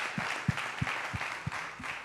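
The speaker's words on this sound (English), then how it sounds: "Thank you for the claps." A small audience gives a few sparse claps, about six distinct hand claps spaced roughly evenly over a soft room background, fairly faint and without talk.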